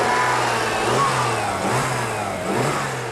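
A 268-horsepower 3.5-litre V6 car engine revs and accelerates, its steady mid-pitched drone rising and easing across repeated pulls, heard loud and close without any voices.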